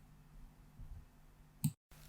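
A single computer mouse click, close and crisp, stands out from a quiet room hum, with a brief silent gap just after.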